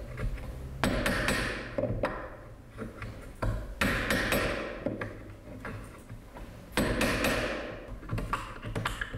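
A steel chisel is driven with a hammer to cut a mortise in traditional Korean wood joinery: sharp, close knocks land in irregular clusters over a steady low hum.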